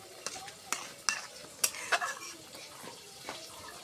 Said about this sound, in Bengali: মটরশুঁটিগুলো আমরা সব দিয়ে দিলাম